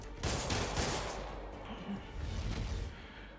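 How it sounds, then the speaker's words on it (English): Dense bursts of gunfire roll through a busy game soundscape in Marvel's Spider-Man Remastered on PS5, a steady wash of shots and impacts with no clear gaps. "Where are they shooting at?"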